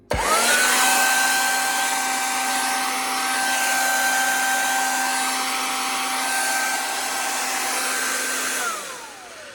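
A Hooverlux vacuum cleaner, just reassembled after repair, runs steadily for about nine seconds with a steady motor whine and a faint grating edge, then spins down at the end.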